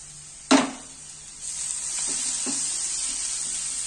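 Chopped tomatoes land in a hot frying pan with a sharp loud hiss, followed by a steady sizzle and a couple of soft stirring scrapes.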